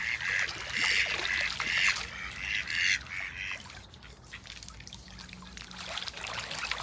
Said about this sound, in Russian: И слева утки, и справа утки. Везде утки.